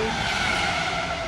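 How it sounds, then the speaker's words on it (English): A 2025 Pagani Utopia's road noise as a car speeds past, a steady loud broadband rush with tire roar lasting throughout, close by and with no voices. "this car just keeps speeding by"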